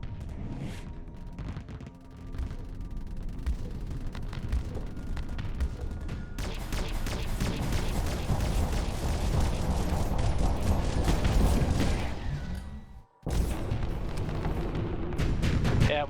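Missiles strike and explode in a dense, continuous barrage during a Starsector space battle with heavy mods, booming impacts and mechanical rumble layered loudly throughout, with a brief gap just before the end.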